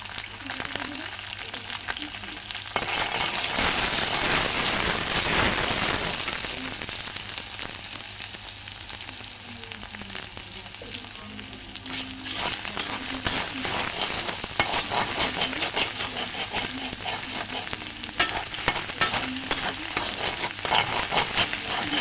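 Egg and noodles fry in a hot pan with spices stirred in, a steady close sizzle with scraping stir sounds running throughout, no voices.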